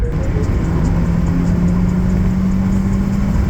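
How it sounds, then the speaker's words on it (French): A Mazda 3 engine revs under acceleration, a loud steady mid-pitched drone with a sustained tonal hum, continuous and close without any voices. "Je voulais juste tester, accélérer parce que je l'avais jamais testé."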